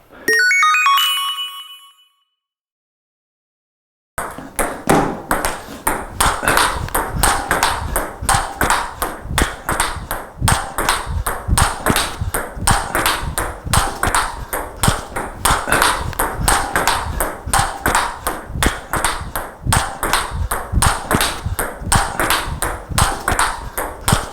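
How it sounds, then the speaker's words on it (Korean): Table tennis forehand drives in a rally played far back from the table, with the ball's sharp pings off paddle and table repeating steadily and fast after a brief quiet start. "조금 더 이제 많이 떨어져서 쭉쭉 끌어올리는 드라이브를 보여드리겠습니다"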